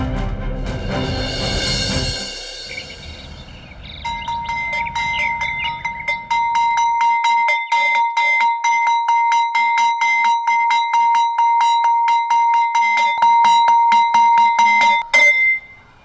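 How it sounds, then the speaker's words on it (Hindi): Hand-rung school bell signalling the end of the school day, a rapid run of bright metallic strikes ringing steadily for about eleven seconds, loud and close, cutting off abruptly after a stretch of noisy rumble. "घंटी बजाकर स्कूल की छुट्टी कर देता है"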